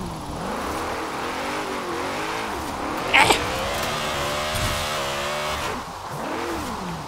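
A BMW i8 hybrid revving in Forza Horizon 4, loud and close, the engine note climbing and falling in several sweeping pulls, with a sharp burst partway through.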